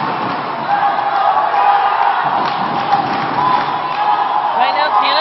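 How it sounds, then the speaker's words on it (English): The Canadian cheering squad at a women's dodgeball world championship match in Cancun, a dense, loud crowd roar of shouts and chants, with an announcer's voice talking over it throughout. "And now it's the Canadian cheering squad's turn to be loud."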